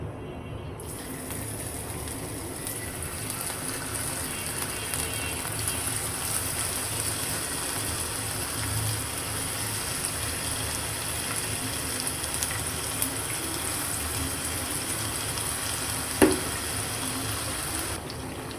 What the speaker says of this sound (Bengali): এগুলো এখন উল্টে পাল্টে ভালো মতো মচমচা করে ভেজে নেব